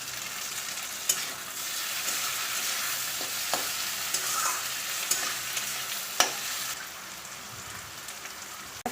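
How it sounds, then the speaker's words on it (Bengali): Onions and tomatoes fry in a pan with a constant close hissing sizzle, broken by a few sharp spatula taps and scrapes against the pan. "আমি দেখো পেঁয়াজটা ভেজে নিচ্ছি। আর আমি টমেটোগুলো দিয়ে দিলাম।"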